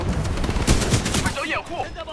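Automatic gunfire bursts from the Titanfall 2 video game, dense and loud at first, then tapering off, with a player's voice faintly mixed in near the end.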